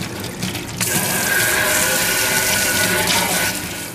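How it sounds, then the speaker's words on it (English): Tap water runs into a basement sink to rinse parts from a Heathkit IP-20 regulated power supply, a loud continuous splashing gush that swells briefly and holds steady throughout. "cool water rinsing."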